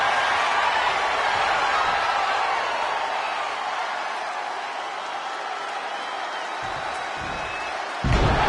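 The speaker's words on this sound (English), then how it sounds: "With every move you make, you hear this capacity crowd following you on that journey" A capacity arena crowd in the WWE 2K23 wrestling video game roars and cheers steadily, loud and continuous, thinning slightly before a sharp slam-like impact near the end.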